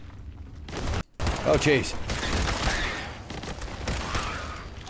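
Pipe pistol shots in the game Fallout 4, a rapid burst of sharp cracks close by, running into a dense stretch of combat noise, with a man's brief exclamation over it.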